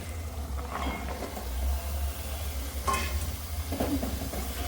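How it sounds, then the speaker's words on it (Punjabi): Peas and carrots tipped into frying masala and stirred: a steady low sizzle with a few scraping stir strokes of the spoon against the pan, close and moderately loud. "ਹੁਣ ਅਸੀਂ ਇਹਦੇ ਵਿੱਚ ਪਾ ਦਵਾਂਗੇ ਮਟਰ ਤੇ ਨਾਲ ਹੀ ਪਾਵਾਂਗੇ ਅਸੀਂ ਗਾਜਰਾਂ"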